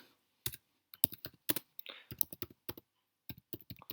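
Fingers typing on a computer keyboard, giving quick irregular clusters of crisp close key clicks separated by short pauses, alone in an otherwise quiet room.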